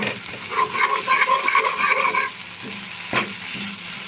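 Mutton brain frying in a hot pan gives a steady, close sizzle with crackling bursts, then softens into a quieter simmer marked by a single sharp utensil tap.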